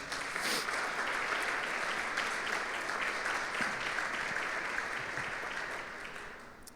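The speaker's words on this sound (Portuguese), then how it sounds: "Dá uma salva de palmas por mim." An audience at a pastor's church gathering claps steadily for several seconds, a dense, even wash of applause that fades slightly at the end.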